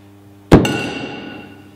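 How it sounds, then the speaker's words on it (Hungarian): A single sharp pop of hydrogen gas igniting at a test-tube mouth at about half a second, loud and close, followed by a ringing, slowly fading tail. "Durranó hangot hallottunk."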